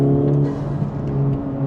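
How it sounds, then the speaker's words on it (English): Honda Civic Type R turbocharged engine pulling under part throttle, a steady, strongly tonal drone with a firm low hum that holds and swells slightly across the short span, heard from inside the car with no talk. "the engine, even just giving it half throttle, as soon as boost hits, it starts to push"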